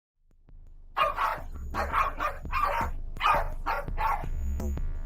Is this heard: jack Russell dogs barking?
yes